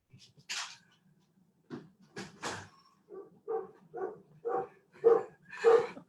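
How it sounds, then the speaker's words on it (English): Dog barking in a series of about eight sharp barks, the first few scattered and the last six coming in a steady rhythm and growing louder, close by and heard alone with no talk. "dog's barking at me"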